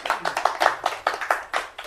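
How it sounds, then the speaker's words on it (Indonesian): A room of people claps in a quick, uneven burst, each slap sharp and close, at a talk on saving bees. A faint voice sits underneath. "Kita tepuk tangan"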